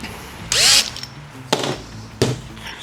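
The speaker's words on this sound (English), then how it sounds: "No, we gotta drill this out." Power drill boring into a Mercedes W203 C-Class wheel bearing part, a loud half-second whine that rises in pitch, followed by two short quieter bursts, with near-silence between them.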